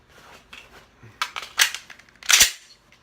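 A pistol magazine is ripped out and a fresh one slammed home to clear a double feed, giving a quick run of sharp metallic clacks and snaps, the last impact loudest, close up.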